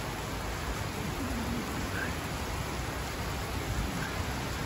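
Steady rain falling outside a farmers market overhang, a dense, even hiss of drops running unbroken and fairly close throughout, with no talk over it.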